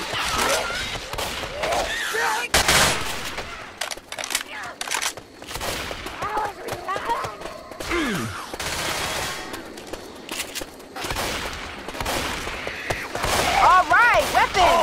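Dense automatic gunfire and scattered single shots in a Left 4 Dead 2 zombie battle, bursts coming in uneven waves for the whole stretch, with players talking over the shooting.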